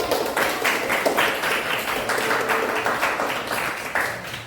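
Classroom applause for a student group finishing their presentation, steady dense clapping from many hands filling the room throughout, fairly loud and continuous without talk.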